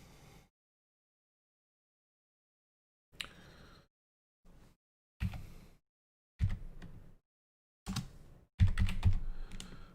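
Typing on a computer keyboard while entering measurements into 3D modelling software: short bursts of close, crisp key clacks separated by pauses of silence, growing denser toward the end, with no talk.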